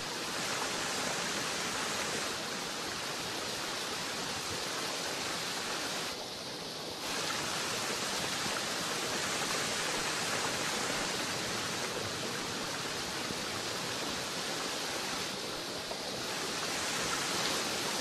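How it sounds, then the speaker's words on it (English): Distant waterfall in the video game The Long Dark, a steady broadband roar of rushing water continuing without a break, with brief dips in level. "Oh, I can hear the waterfall from literally 2 billion miles away."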